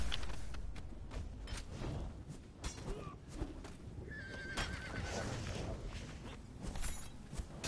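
Horse in the video game Conan Exiles giving a loud whinny with hoof clip-clops and combat thuds around it, amid busy game sound effects.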